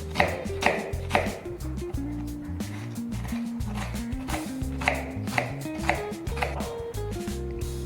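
A knife chops ingredients finely for Maddur vada in a series of crisp, fairly regular taps on a board, set against a steady tonal backing.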